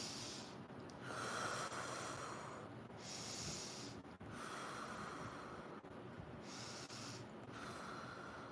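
Slow, deep breaths drawn in and let out, about four unhurried cycles of airy inhales and exhales, close and fairly soft.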